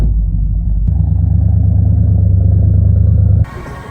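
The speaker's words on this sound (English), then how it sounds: "We're taking a dump truck." Heavy low engine rumble from a 1979 K30 dump truck, a steady deep idle that swells slightly after the first second, then cuts to a quieter, brighter noise near the end.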